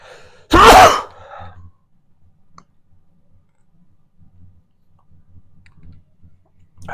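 A single sharp, loud sneeze near the start, close to the mic, followed by quiet small clicks and handling noises while painting.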